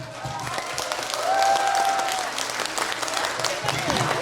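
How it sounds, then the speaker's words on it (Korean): An audience at a children's recital applauds and cheers to welcome six-year-old performers, with continuous clapping and a few whistles and shouts rising through the middle. "박수와 함성으로 우리 6살 친구들을 맞이해보도록 하겠습니다"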